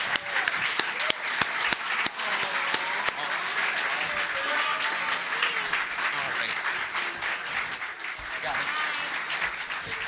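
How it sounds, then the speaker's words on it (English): Audience at a voice actor panel breaking into sustained applause, a dense wash of many hands clapping with scattered sharper claps and crowd murmur throughout. "Again, more applause for those who had to leave us."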